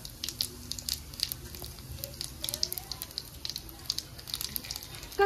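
Dried red chillies and bay leaves frying in hot oil for a Bengali katla fish curry with taro root, a steady close crackle and sizzle with scattered spits and pops, faint voices underneath.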